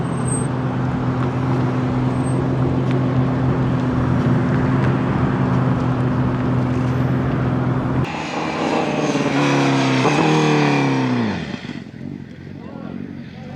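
Cars pulling up at a street photoshoot in Los Angeles, including a Ferrari, with a steady engine drone, then a louder passing engine that rises and drops in pitch near the end, under nearby talk.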